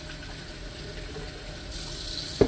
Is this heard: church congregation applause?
no